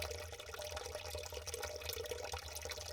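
Water gushes steadily from a cracked aquarium tank in a haunted aquarium video game, a continuous splashing, trickling flow at a moderate, even level with no speech.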